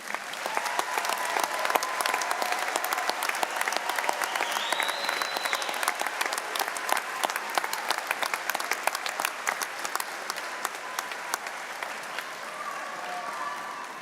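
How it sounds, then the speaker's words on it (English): Sustained applause from a commencement audience honouring graduates, a dense steady clatter of many hands lasting the whole stretch without talk. "How about another round of applause for our graduates?"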